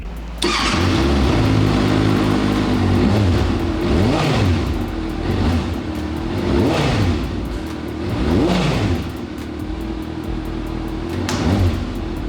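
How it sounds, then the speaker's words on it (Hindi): A Kawasaki Ninja sport motorcycle engine revs hard, over and over, with loud rising and falling swells close by; no talking. "तो अब इस मोटरसाइकिल की हम लोग जो है बढ़िया सी आवाज़ सुनते हैं"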